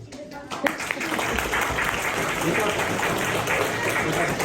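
An audience at a Ukrainian charity concert around St. Nicholas Day gives sustained, dense applause. It holds steady and fairly loud for several seconds, with crowd noise mixed in.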